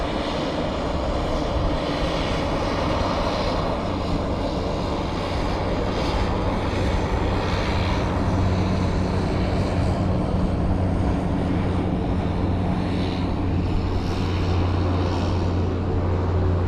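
A DHL cargo plane passes at San Juan's Luis Muñoz Marín airport, giving a steady, loud engine roar that holds throughout with no talk.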